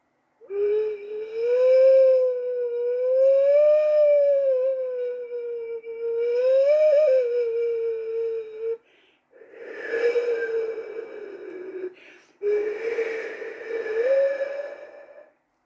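A breathy, hollow Kazakh saz syrnai clay wind instrument sustains long wavering tones that rise and fall like steppe wind, in three extended phrases with brief gaps.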